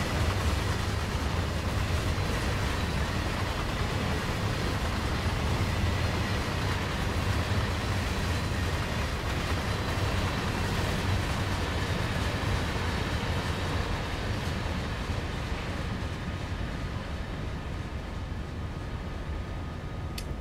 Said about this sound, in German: Da fährt ja schon der Güterverkehr.